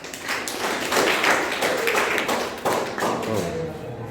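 Classroom applause, a dense patter of many hands clapping together that swells in the middle and fades near the end.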